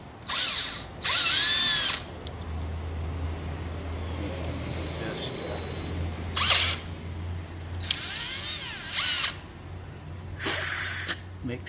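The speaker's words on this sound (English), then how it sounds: "You're just going to drill through." A power drill with a 1/4 inch bit whirs in several short, loud bursts with pauses between, some hissing air and faint background hum, during a catch can install on a 2016 Camaro.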